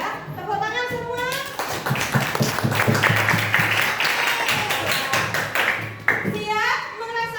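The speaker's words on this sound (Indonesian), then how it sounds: "Tepuk tangan semua." A sixth-grade class of children clapping hands in a classroom, loud and close, with bursts of quick rhythmic claps mixed with children's voices and an adult speaking over parts of it.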